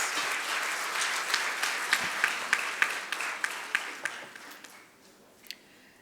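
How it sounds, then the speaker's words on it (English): An audience applauds the top 15 teams at the closing plenary of an international conference: dense, steady clapping with a few sharp individual claps standing out, thinning and fading toward the end. "Let's give them a big round of applause, guys, to the top 15 teams."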